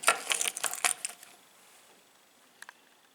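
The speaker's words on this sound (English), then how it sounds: "these are Nan's keys. But it's not really Nan's keys, it's really Nan's keyring." Old metal keys on a keyring being handled, giving a quick cluster of bright jangling clinks at the start, a scattered rattle that fades out, then two small clicks near the end, all close by with no voices.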